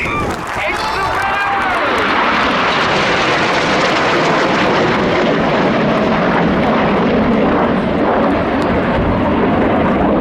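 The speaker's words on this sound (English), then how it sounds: "Red 1 calls the pilots into Phoenix formation" Red Arrows aerobatic team jets roar overhead at the Cosford Air Show, a loud, sustained engine rumble and whoosh that builds and holds for the whole stretch, with a brief whistling tone near the start.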